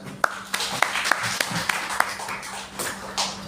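A small audience claps to welcome a speaker to the dais at an academic session, a sparse uneven patter of separate sharp claps over a low steady hum rather than a full roar.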